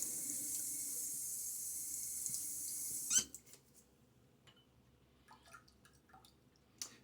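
Water runs from a bathroom tap for a few seconds while a face is wetted before shaving, then cuts off with a squeak. Soft drips and small splashes follow.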